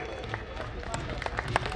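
Applause at a Rajput community gathering in Faridabad honoring a land donor, a crowd clapping steadily and fairly softly at a distance for a short stretch, with voices mixed in.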